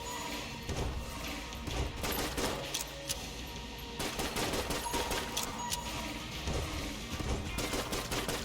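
Continuous rapid gunfire and impacts fill the bullet-hell dungeon crawler Enter the Gungeon, with dense, steady volleys sounding close and loud throughout, and no talking.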